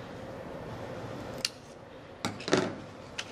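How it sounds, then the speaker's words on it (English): Scissors snip through a plastic drinking straw, cutting it in half for a paper shooting-star glider craft: a few short, crisp clicks near the mic, one isolated then a quick cluster of two or three, over a low steady room hum. "we'll grab this straw, and then we're gonna cut it in half again"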